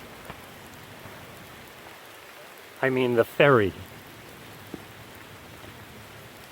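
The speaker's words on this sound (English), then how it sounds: "Rain's moderate." Moderate rain falls steadily outdoors along the Appalachian Trail near a river ferry crossing, a constant soft hiss throughout, with a brief stretch of people talking in the middle.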